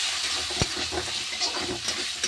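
Tomatoes fry in a pan for an egg curry, giving a steady soft sizzle with a few stirring scrapes and clicks near the pan.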